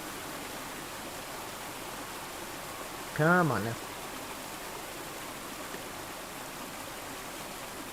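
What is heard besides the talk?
running water in Call of the Sea video game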